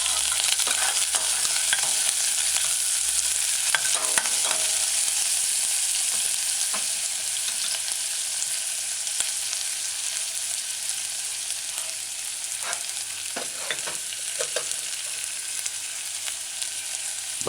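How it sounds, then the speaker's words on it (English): Chopped onions sizzle and frying in a saucepan over medium-low heat for a vegan eggplant tomato stew, a steady close hiss with occasional scraping stirs and crackles, no talking. "add your chopped onions, stir in a few times,"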